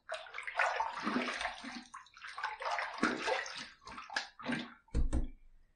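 Water splashes and sloshes in a sink as a face is rinsed during a wet shave with a stainless steel injector razor, with irregular bursts and gurgles, close and without talk.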